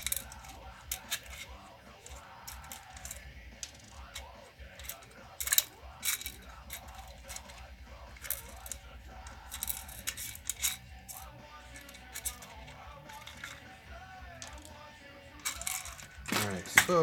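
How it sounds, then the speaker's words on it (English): Metal washers clink and rattle as a hand digs through a container of them during a workshop build, with scattered small metallic taps and jingles at close range, fairly quiet. "trying to dig out some washers here."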